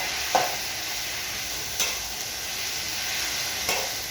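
Tanigue fish with tausi stirred in a sizzling pan, a continuous hiss of frying broken by three distinct scraping knocks of a utensil against the pan, spaced a second or more apart.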